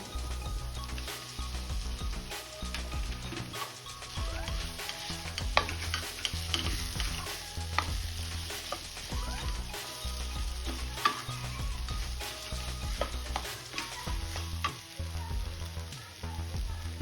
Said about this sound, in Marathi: एकदा सर्व साहित्य व्यवस्थित मिक्स करून घ्यायचं